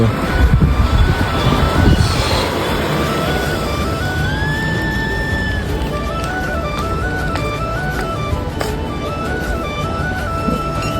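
A metro train runs toward Salt Lake Sector 5 with a loud, steady roar of wheels on rail, overlaid with whining motor tones that rise and step in pitch throughout.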